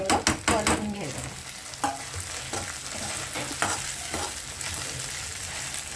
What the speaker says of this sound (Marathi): आपण आता ह्याच्यावरती एक साधारण 2 ते 3 मिनटं चांगलं परतून घ्यायचं